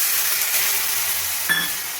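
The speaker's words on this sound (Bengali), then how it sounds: "যতক্ষণ না মশলা থেকে আদার কাঁচা গন্ধটা চলে যাচ্ছে ততক্ষণ আমি মশলাটাকে ভালোভাবে কষিয়ে নেব" Ginger spice paste sautéing in a pan for green banana kofta curry: a continuous close hiss and sizzle with a brief metallic clink midway, no voices.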